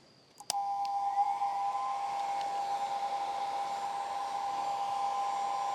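A hair dryer powered by a Bluetti AC60 portable power station clicks on and settles into a steady, even whirring blow with a thin constant whine, running alone with no talk.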